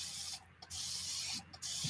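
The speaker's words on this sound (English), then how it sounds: "Spray it with water." Water sprayed from a spray bottle onto paper coated with dried acrylic paint: two close, hissing bursts, each broken by a short pause, with no talking.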